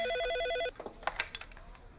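A telephone bell rings loudly for under a second with a sharp electronic tone, then stops. Soft clicks and handling noises follow as the receiver is picked up.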